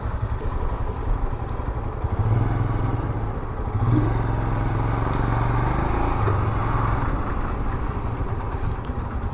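A motorcycle rides through heavy traffic on the road from Kurnool to Srisailam, its engine a steady low drone close by, with wind rumble and the passing noise of surrounding vehicles.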